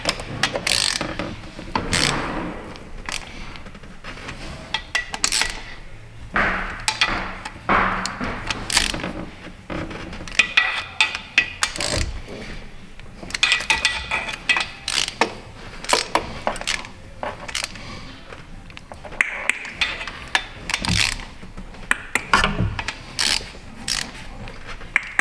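Ratchet wrench clicking in rapid bursts during a secondary air injection system repair on a 2014 Chevy Impala, close and fairly loud, with short pauses between turning strokes.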